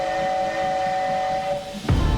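Steam train whistle from a film trailer: a steady sustained whistle tone with hiss runs for nearly two seconds, then a louder low burst cuts in at the end.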